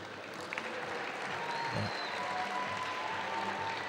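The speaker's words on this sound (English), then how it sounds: "Crowd is excitedly clapping again." A crowd applauds steadily at a senior trampoline final of the European Championships, a sustained wash of clapping in a large arena with no voices over it.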